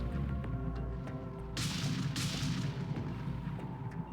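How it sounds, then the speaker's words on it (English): Video game gunshot set off by a controller's left trigger, two sharp bright bursts in quick succession over a steady low hum, punchy and close. "Apparently, if you press left trigger, it does a gunshot noise."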